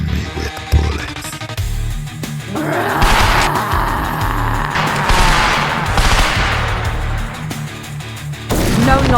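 A heavy volley of gunfire from a dramatic series roars almost continuously, with loud close bursts running for several seconds, a brief lull, and then another burst at the end.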